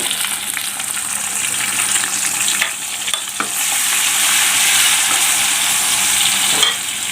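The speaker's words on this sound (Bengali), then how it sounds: "আমি সুটকিটা দিয়ে দিচ্ছি একটু ভেজে নেব" Dried fish frying in a pan with garlic and green chili, a close, dense sizzle with a few stirring scrapes that swells louder partway through, and nobody speaking.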